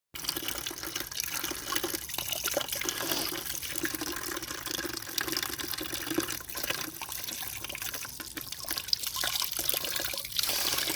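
Very cold water pours steadily from a tap in an unbroken, even rush for several seconds, close and fairly loud, with no voices over it.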